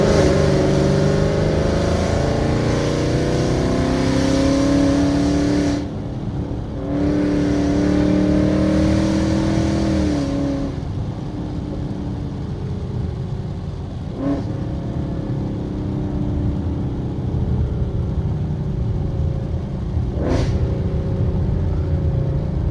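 A car fitted with a Roush aftermarket exhaust accelerates through gears, its engine note rising and dropping with downshifts; a steady loud drone throughout, with a few sharp blips between shifts and no talking.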